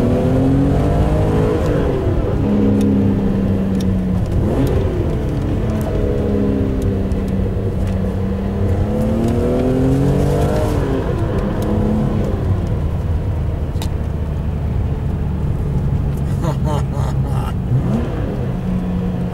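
A BMW M5 with 315 horsepower accelerating hard, its engine loud and close, rising and falling through repeated revving climbs as gears change across a long continuous pull.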